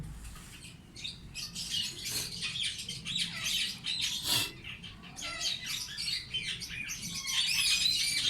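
Busy calls, chirps and squawks of pet birds such as lovebirds, ringnecks, budgies and pigeons overlapping continuously, fairly close, with fluttering bursts and no talking.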